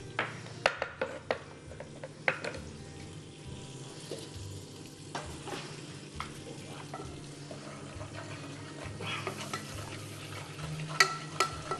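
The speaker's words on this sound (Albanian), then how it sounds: "Të duhet skuqim sa ajo të lëshoj aromë." Cornmeal fries in a pan for a clay-pot salami dish, a low sizzle under repeated scraping stirs and occasional knocks of the utensil against the pan, close and fairly quiet, with no talking.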